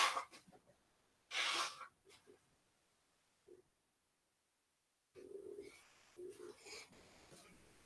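A single sharp, close sneeze bursts out indoors, followed by quiet breaths and a faint voice after a short silence.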